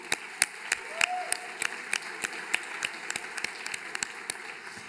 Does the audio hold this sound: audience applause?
yes